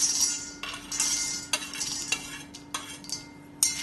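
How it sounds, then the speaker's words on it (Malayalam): Peanuts are stirred and dry-roasted in a frying pan over medium flame, with repeated metal scrapes and rattles of a spoon against the pan. A faint steady hum runs underneath, and there is no talking. "ഇത് കുറച്ച് സമയം മീഡിയം ഫ്ലെയിമിൽ ഇളക്കി വറുത്തെടുക്കാം."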